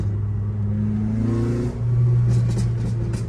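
A Renault Clio 3 RS Cup engine idles with a steady low rumble, then revs up briefly with a rougher, popping exhaust note from a hole in the catalytic converter, close by.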